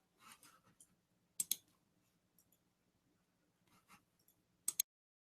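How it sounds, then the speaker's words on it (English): Computer mouse clicking at a desk, heard as a few quiet scattered clicks with two sharper, louder pairs of clicks standing out, and no voices. "I just heard somebody start clicking around."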